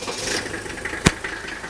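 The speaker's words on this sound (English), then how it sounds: "I'm going to start the engine up, and then I'll come back and we'll take a close look at what the engine's doing" Diesel engine starting up and settling into a rough, shaky idle, with two sharp knocks standing out over a steady mechanical rumble close by.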